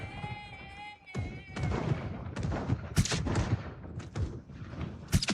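Gunshots in the zombie survival game Project Zomboid, a string of sharp cracks and heavy thuds firing irregularly, some close and loud, over rumbling background noise, opening with a brief tonal hum.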